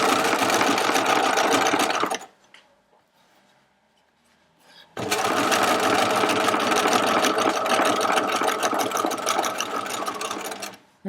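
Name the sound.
sewing machine stitching a placket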